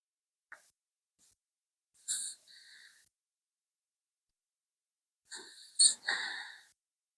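A dog asleep on its bed snores in a few short, soft breathy snorts separated by silence, recorded close and quiet.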